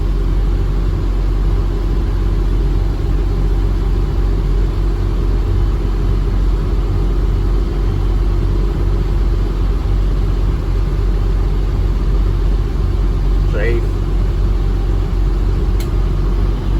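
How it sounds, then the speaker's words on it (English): Boat engine idling slowly as it warms up on the Mississippi River, a steady low rumble that runs without a break throughout, close and fairly loud. "let the engine warm up, and then we'll put this thing under power"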